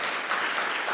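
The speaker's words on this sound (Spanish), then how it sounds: "¿Cuánto pueden darle un fuerte aplauso al Señor?" Church congregation applauding for the Lord during a Spanish-language service, steady dense clapping filling the whole moment at moderate volume.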